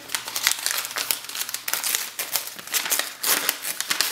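Plastic packaging holding card reader adapters being torn open nearby, a busy run of crisp crinkling and ripping crackles in quick irregular bursts that continue for several seconds.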